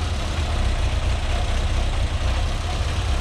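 A cold car engine idles roughly and unsteadily, a continuous low rumble filling the whole stretch with no voices over it.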